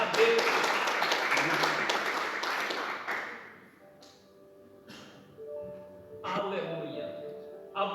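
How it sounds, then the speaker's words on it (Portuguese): A church congregation claps together during an evening service, dense and lively for about three seconds before the clapping fades away and quieter sounds take over. "A igreja pode se assentar, batendo palmas para Jesus nesta noite."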